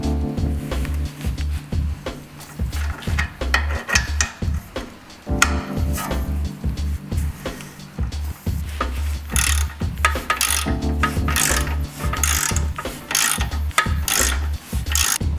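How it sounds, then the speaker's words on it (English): Rapid ratchet clicking in uneven bursts as a hand ratchet loosens the outer rear toe arm bolt on a Nissan 350Z (Z33) during a coilover suspension fitting, close and clear with metallic scraping, no talk. "now onto the rear, loosen the outer toe arm bolt"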